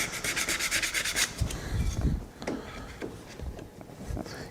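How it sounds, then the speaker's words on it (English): Sandpaper rubbed briskly over a wooden joint during a woodworking glue-up, starting with a fast rhythmic run of close, scratchy strokes that then slow into a few softer, scattered rubs. "That feels like just a little sandpaper."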